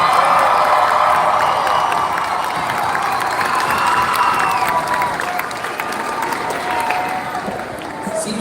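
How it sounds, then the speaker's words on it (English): A large audience at a high school graduation ceremony applauds and cheers for the graduating class, with a sustained wash of clapping, crowd noise and scattered shouts that eases slightly over the stretch. "let us give the Okkodo High School class of 2025 a round of applause"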